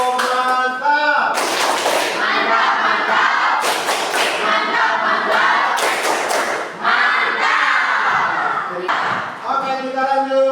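Classroom students perform a rhythmic clapping chant, with loud sharp claps in quick patterned groups mixed with shouted group voices, all close and energetic.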